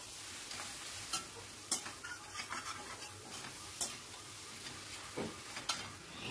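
Food being stirred and mixed in a pan over a high gas flame, with irregular scraping taps and clinks over a faint sizzle, close but fairly quiet, no talking.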